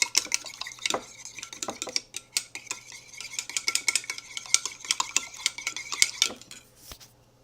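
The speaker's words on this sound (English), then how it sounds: "Now next instruction is to whisk it" Fork or spoon whisking an egg in a mug for a microwave mug cake: rapid, irregular metallic clinks and scrapes against the ceramic, close and crisp, with no voices.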